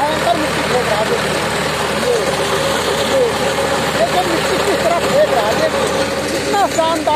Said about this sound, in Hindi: 744 ट्रैक्टर है, इसमें शक्तिमान का रोटावेटर लगा हुआ है, किस तरह जुताई कर रहा है